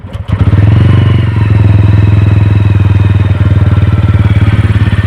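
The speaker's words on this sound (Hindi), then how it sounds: "एक बार गाड़ी की आवाज़ सुन लेते हैं।" A TVS Ronin 225 motorcycle, freshly serviced and sitting in neutral, starts up and runs close by with a loud, steady, pulsing single-cylinder throb and a slight rhythmic clatter.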